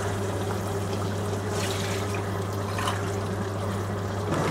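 Water is poured steadily into a pot of rice being prepared for chicken biryani, making a continuous close splashing trickle over a low kitchen hum.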